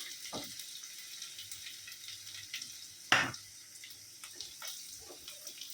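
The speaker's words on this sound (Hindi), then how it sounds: "अभी ये प्याज डालेंगे, इसको कालवन बोलते हैं" Sliced onions hitting hot oil for a Konkani village-style fish curry, a soft steady sizzle with a sharp splash and crackle as they go in, with light stirring noises and no talking.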